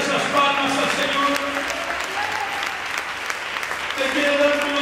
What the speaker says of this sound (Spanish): ¿Te quiere dar esas palmas al Señor?